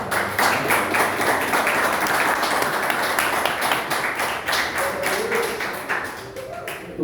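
A church congregation applauds in praise during a Portuguese-language service, steady, loud, dense clapping that continues throughout without pause.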